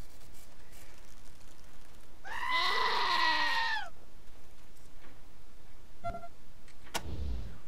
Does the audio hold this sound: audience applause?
no